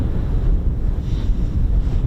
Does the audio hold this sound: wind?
yes